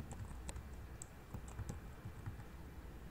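Typing on a computer keyboard, a soft, quiet run of irregular key clicks lasting about three seconds, close by with no talk.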